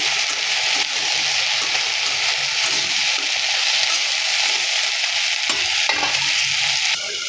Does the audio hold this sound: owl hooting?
no